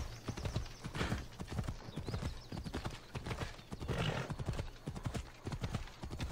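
Horse hooves clip-clop in a steady, close rhythm during riding in the video game Assassin's Creed Odyssey, joined partway by a neigh, all set against continuous game ambience.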